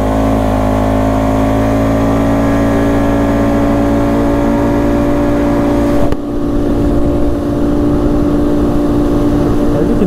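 A 2019 Polaris Sportsman 570 X2 EPS ATV engine accelerates in two-wheel drive, holding a loud, steady droning roar with a brief dip partway through before it pulls on again.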